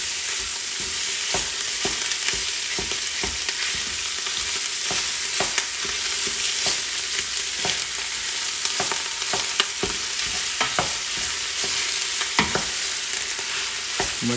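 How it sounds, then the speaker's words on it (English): Ground chuck beef with sausage sizzles in a hot pot, a close steady frying hiss broken by frequent scraping stirs and clicks, with no talking. "What you're doing is just browning it up."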